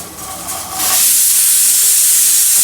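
A pressure cooker whistles while cooking horse gram for a Malwani curry, its steam release building from a soft hiss into a loud, sustained, close-up rushing whistle that carries to the end.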